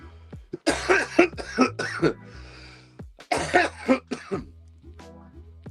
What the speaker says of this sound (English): I'm going to start coughing in a second.